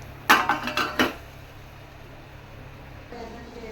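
A plate set down in a home kitchen while eggs cook gives a short cluster of clinks and knocks near the start, then quiet room tone with a faint later rustle.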